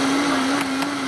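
A Vitamix blender at high speed blending strawberries and other fruit, a loud, steady motor whine with a constant drone and a couple of brief surges.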